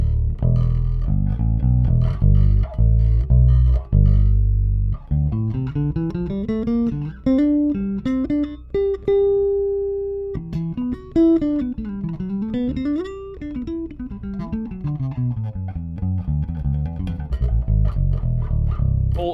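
Xotic XJ series bass guitar played with all controls flat, with punchy low notes followed by rising and falling melodic runs and a sustained note, clear and even from low to high, with no talk.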